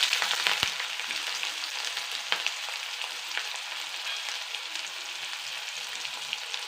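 Onions hiss as they fry in hot oil with black mustard seeds and chillies, a steady, moderately loud sizzle broken by a few sharp crackles and pops near the start.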